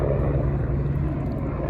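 Naval helicopters fly overhead near a bridge in Helston, Cornwall, their rotors and engines making a loud, continuous droning roar that stays fairly even throughout.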